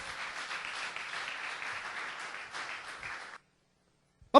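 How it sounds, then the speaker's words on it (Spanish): A church congregation claps together in a soft, diffuse wash of applause for about three seconds before cutting off into near silence. "Fuerte, fuerte, fuerte el aplauso."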